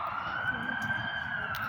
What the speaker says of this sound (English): There's a goddamn siren.